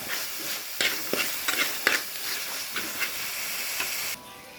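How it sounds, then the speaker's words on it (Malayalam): Pearl spot fish curry reduces in a pan with a steady bubbling hiss and sizzle, punctuated by irregular scraping clatters of stirring, close by, until the sound drops off near the end. "അങ്ങനെ 2-3 കരിമീനും ഒരു കരിഞ്ചിയും കുറച്ച് കണമ്പ് വെച്ചിട്ടുണ്ട്. അപ്പോൾ അതിനെ വറ്റിച്ചെടുക്കാനുള്ള പരിപാടിയാണ്."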